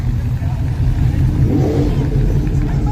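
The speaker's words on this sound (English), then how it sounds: "We got the BMW versus this Mustang." A BMW and a Mustang rev their engines at an outlaw drag-racing track, with a loud, steady engine roar that swells slightly midway. Crowd noise and voices are mixed in.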